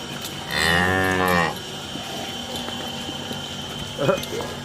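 A cow lows once at a cattle market, a long, loud, close moo with rich harmonics lasting about a second, followed by quieter crowd noise and a brief vocal sound near the end.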